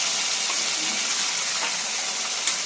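Chopped tomatoes dropped into a hot pan where onions are frying, giving a steady, loud hiss of sizzling oil with a few faint clicks and no talking.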